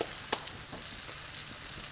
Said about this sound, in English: that sizzle means it's gonna taste delicious